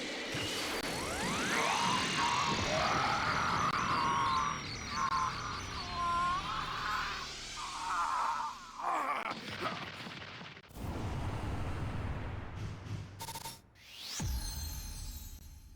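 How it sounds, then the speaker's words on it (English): Special Beam Cannon attack from Dragon Ball Z Kakarot, a loud drawn-out energy blast with rising whine, crackling and booming impacts that swell for about ten seconds, then sharp crashes and explosions toward the end. "Special beam cannon!"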